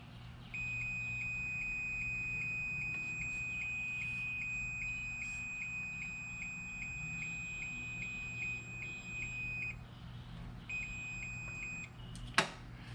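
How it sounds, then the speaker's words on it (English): A Mercury 175 two-stroke outboard's oil pump alarm beeps steadily in a rapid regular series of high tones for about nine seconds, pauses briefly, then resumes, over a low steady hum, ending with a sharp click. "the alarm goes off"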